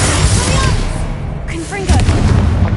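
A Bombarda explosion spell from the Hogwarts Legacy video game goes off with heavy booming blasts and crackling debris, loud and close, in two bursts.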